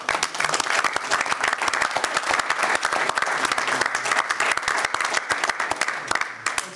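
A board of trustees meeting audience gives a round of applause: a small group's distinct, sharp claps ring out steadily and fairly close, with no talk over them.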